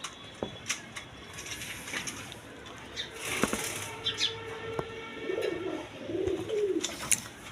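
Racing pigeons cooing and fluttering their wings in short bursts, with scattered bird calls and rustling close by.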